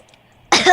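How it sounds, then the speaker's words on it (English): A single short, sharp cough comes close and loud after half a second of near silence, ending the brief clip. "Sorry, I had to cough real quick."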